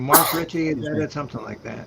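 A short, sharp sneeze bursts out near the start, close and loud, followed by people talking casually during a radio show.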